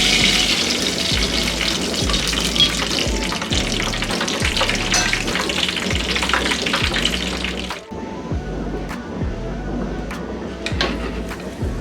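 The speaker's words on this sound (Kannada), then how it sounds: "ಕಡಲೆ ಬೀಜನ ಮೊದಲು ಹುರ್ಕೊಳ್ಳೋಣ." Peanuts frying in hot oil in a pan for a spicy flattened-rice snack mix, a loud, continuous sizzle with rhythmic scraping knocks of stirring, easing slightly toward the end.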